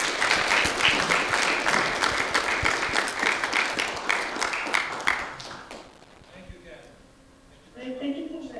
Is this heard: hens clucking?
no